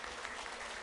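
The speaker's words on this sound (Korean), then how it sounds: "한번 큰 박수 부탁드립니다." Applause from a seated audience at a community talk concert, following a musical performance; a dense, steady wash of clapping fills the short moment at a fairly faint level.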